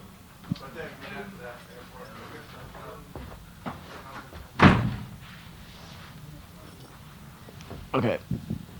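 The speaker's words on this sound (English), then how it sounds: "Shut the door." A door shut in a room during a 1994 interview in Torrance, California gives one sharp, loud thud midway, with a softer knock near the end, under ongoing conversation.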